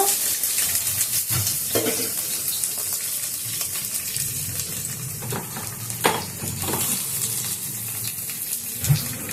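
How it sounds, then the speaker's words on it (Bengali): Spice paste of onion, ginger, green chilli and garlic frying in oil in a pan, a steady close sizzle broken by occasional spoon scrapes and clinks, no talking. "পেঁয়াজ আছে আদা আছে কাঁচা লঙ্কা আছে রসুন আছে মশলাটা একটু ভেজে নেব"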